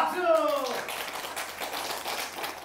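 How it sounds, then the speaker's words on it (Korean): Audience applause at a quiz event in a Jeju village, a soft patter of clapping from a crowd, fairly faint and continuous, following a brief voice at the start. "박수."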